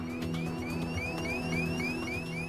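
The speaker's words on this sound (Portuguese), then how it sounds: "Esse é o aviso de altitude da cabine." Cabin altitude warning in a Learjet N47BA cockpit, heard on a recording as a repeating series of rising electronic chirps over a steady engine hum, evenly spaced and continuous.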